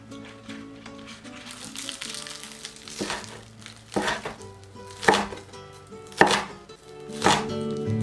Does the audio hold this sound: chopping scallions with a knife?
yes